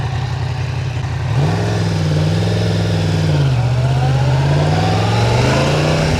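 Yamaha MT-10 motorcycle on its stock exhaust, a steady low engine note that swells and rises in pitch with throttle, then eases slightly and climbs again, loud and close, no voices.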